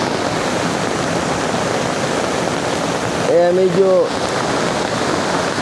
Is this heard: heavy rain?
yes